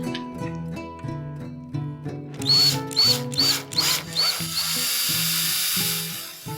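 A power drill bores 4 mm holes with a 4.09 mm bit in woodworking stock, whirring in short bursts that rise to a longer high-pitched run.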